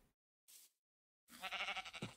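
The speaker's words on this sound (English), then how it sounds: "There are some sheep over here that I can go ahead and kill," A sheep in the Minecraft GregTech New Horizons modpack gives a short bleat, preceded by a faint game click; the sounds are quiet and close, with silent gaps between them.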